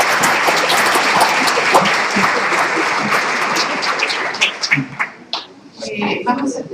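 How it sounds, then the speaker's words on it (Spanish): An audience at an orthopedics medical course gives strong applause, dense and even at first, then thinning into scattered individual claps and a few voices murmuring as it fades. "les pido por favor un fuerte aplauso para él"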